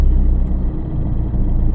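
Car pulling away in first gear during a driving lesson, a steady low engine rumble heard from inside, close and even, with no talking.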